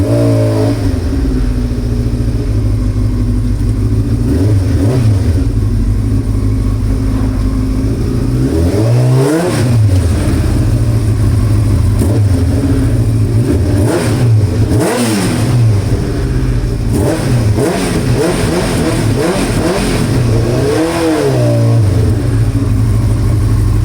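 A Yamaha R1 sport motorcycle engine idles loudly up close and is blipped repeatedly, each rev rising sharply then falling back, several times in a row.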